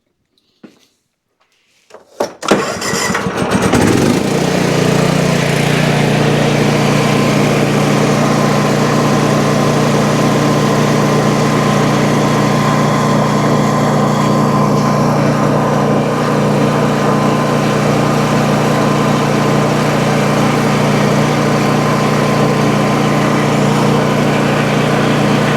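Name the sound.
Toro zero-turn mower engine running with shroud off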